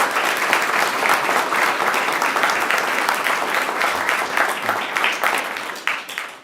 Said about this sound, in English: So round of applause for the families.